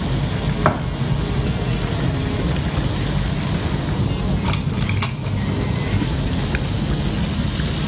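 Prawns roasting in a pan, a continuous low sizzle with occasional clinks of utensil against metal, steady and close.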